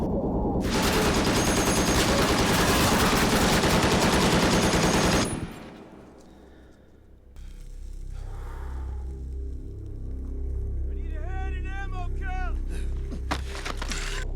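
Machine gun fire from a scene in The Pacific war series, a loud continuous burst for about five seconds that cuts off abruptly, followed by quieter rumbling, faint effects and a brief voice-like sound.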